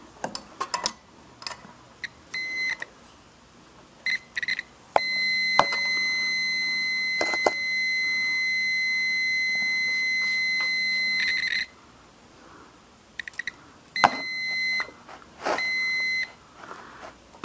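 A multimeter set to continuity beeps while testing an Allis-Chalmers B1 tractor ignition coil, giving several short bleeps, then two long steady tones of about two and a half and seven seconds, followed by more brief intermittent beeps, close and clear with no talking.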